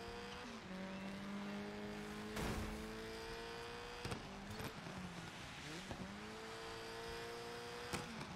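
A rally car engine in the DiRT 5 racing game revs and shifts through gears, rising and dropping in pitch with brief bursts of tire and impact noise, steady and fairly quiet.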